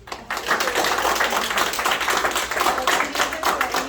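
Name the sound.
audience applause for Ari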